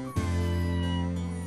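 A cat gives one drawn-out meow, close and clear, starting abruptly and holding its tone for over a second.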